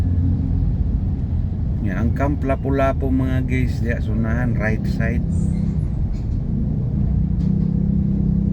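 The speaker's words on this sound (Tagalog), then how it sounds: "Traffic mga guys no." Low rumbling city road traffic on the Trans Central Highway in Cebu, heard from inside a vehicle, a steady engine and road drone with someone talking over it in the middle.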